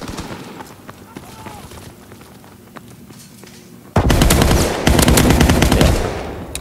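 Rapid automatic gunfire in a World War II video game, with a steady background of scattered shots that gives way to a loud, sustained burst of fire near the end.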